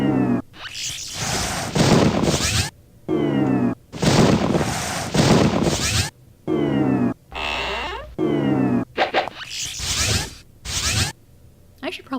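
A house cat meows repeatedly, loud and close, in a series of drawn-out calls separated by short pauses, with no voices over it.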